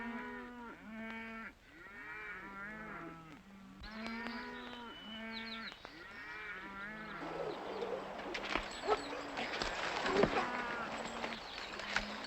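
A herd of cattle moos in a 1943 Western, with long, low, overlapping bellows repeating one after another across the first half, then giving way to a louder, rougher wash of noise as the herd keeps lowing.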